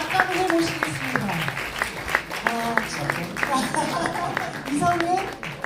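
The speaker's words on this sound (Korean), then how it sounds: "큰 박수로 맞이해 주십시오" An audience at a book launch talk concert claps to welcome an author onto the stage, a steady spread of applause running under an announcer's amplified speech throughout.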